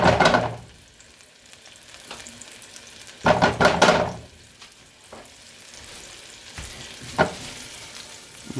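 Butter sizzles and fries quietly in a pan, with a few louder bursts of crackling and utensil knocks breaking through the low steady frying.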